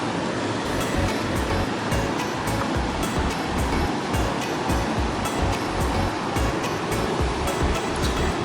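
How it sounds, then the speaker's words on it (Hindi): A waterfall seen from near a watch tower roars as a loud, constant broadband rush of water, steady and close with no pauses. "यहाँ पर झरना है।"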